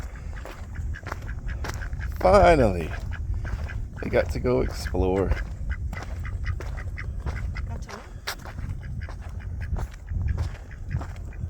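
Ducks quack in a short burst of calls under a person speaking, in the desert, with a few more scattered quacks and outdoor background noise.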